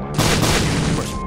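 A bomb blows up in the video game The Binding of Isaac. One loud, close boom with a broad, rumbling body fades over about a second, with no talk.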